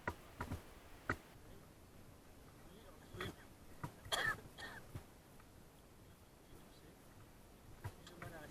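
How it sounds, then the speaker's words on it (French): Several short coughs and throat-clearing bursts from a hiker on a Vanoise glacier trek break a quiet background, scattered irregularly, with a cluster of harsher coughs near the middle. "Je tousse, toujours."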